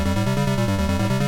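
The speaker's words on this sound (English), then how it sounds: "So what you're hearing now is the second oscillator" A second 4046 oscillator in a modular synth pulses steadily at one fixed tone, its rich buzzy harmonic note repeating in quick, even beats without pause, loud and close with no voices.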